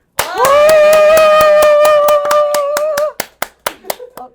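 An audience at a Daejeon climate justice gathering claps in a brisk, even rhythm under a sustained cheering cry, then the cry stops and a few sparse, separate claps trail off.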